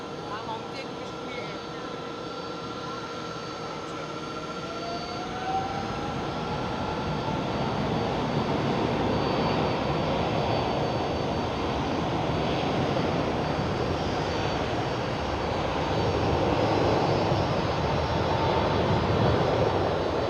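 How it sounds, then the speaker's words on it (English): A Delta Airlines Airbus A330 jet at Schiphol builds into a broad, rising roar of engine noise that swells steadily and stays loud toward the end. "Right over here, the Delta Airlines A330."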